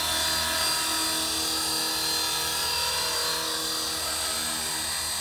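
An Air Wolf 450 RC model helicopter flies steadily before landing, its rotor and motor producing a loud, continuous high-pitched whine and buzz for the whole stretch, with no talking.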